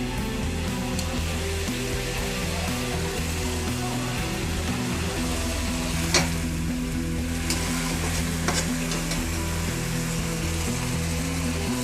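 Ginger, garlic and mustard paste with a little water sizzling steadily in a pan, a constant close hiss with a few faint clinks, no voices.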